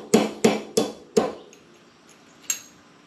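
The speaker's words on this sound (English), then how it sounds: "right now I'm going to use the swing arm to hold the housing while I beat the axle out of it" A stuck axle is hammered out of the housing of a Polaris Trail Boss with four sharp metallic blows close together, a pause, then one more strike, all close by, with no voices.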